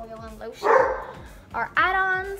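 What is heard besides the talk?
dog barking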